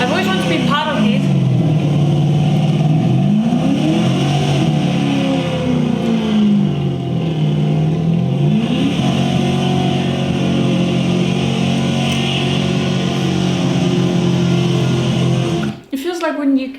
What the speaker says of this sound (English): Oh, not the drag race, man.